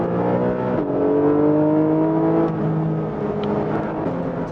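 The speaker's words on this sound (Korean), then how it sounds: "스포츠 배기 시스템 잠깐 끄고 달려볼까요?" Porsche 718 Boxster GTS 4.0 pulling along the road with its sports exhaust switched off, a steady engine drone with rising and shifting tones as it accelerates, heard from inside the car and fairly loud throughout.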